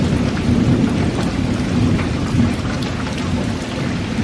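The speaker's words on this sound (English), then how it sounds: "It is thunderstorming and dumping rain like crazy" Heavy rain pours down steadily in Calvert, a dense hiss of drops hitting surfaces, while thunder rumbles low and continuous beneath it.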